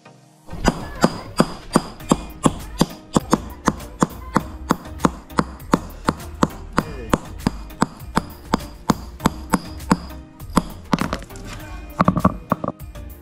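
A stone grinding slab, a shil pata, is chiselled by hand to cut sharpening grooves. Close, sharp metal-on-stone taps repeat in a fast, steady rhythm of about two to three per second, with a brief burst of quicker strikes near the end.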